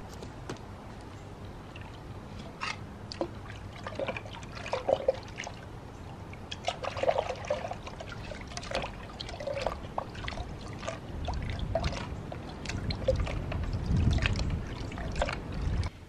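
Water trickles and splashes intermittently while something muddy is washed off outdoors, small irregular drips and pours over a low background, growing a bit fuller toward the end.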